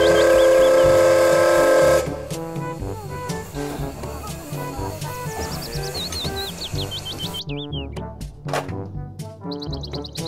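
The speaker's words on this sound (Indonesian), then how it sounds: "Kereta Thomas." A Thomas the Tank Engine toy train plays its electronic tune with chirping whistle-like tones and a steady rumbling motor, close and fairly loud, ending in a few sharp beeps.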